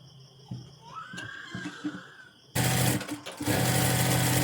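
A sewing machine stitches a blouse, starting abruptly after a quiet stretch of faint handling noises and then running in a loud, close, continuous whir.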